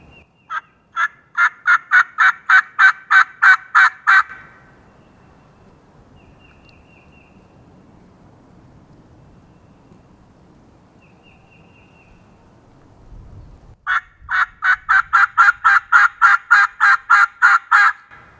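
Wild turkeys gobble loudly in two bursts, each a rapid rattling series of about a dozen calls, separated by a long quiet stretch with faint rustling.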